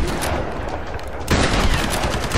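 Shotgun blasts in a Tomb Raider game, loud and dense, with a rough burst of fire that swells sharply about halfway through and continues to the end.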